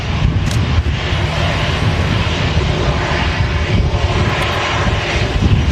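Jet airliner engines run at Manchester Airport, a loud continuous broadband roar that stays steady and close, with the aircraft's rumble filling the scene throughout.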